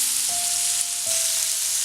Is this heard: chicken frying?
yes